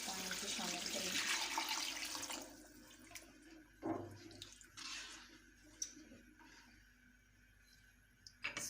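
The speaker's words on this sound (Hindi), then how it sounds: "तो इसमें मैं 3 प्याली जो है वो पानी की शामिल करेंगे" Water pouring from a cup into a cooking pot for chicken yakhni pulao, a rushing splash for the first couple of seconds, then scattered drips, clinks and handling noises in a quiet kitchen.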